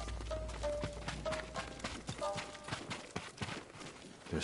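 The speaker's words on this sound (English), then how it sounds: "They're samurai horses." Samurai horses' hooves at a stable in the video game Ghost of Tsushima, a quiet irregular clip-clop of hoof steps mixed with faint ambient tones and background sound.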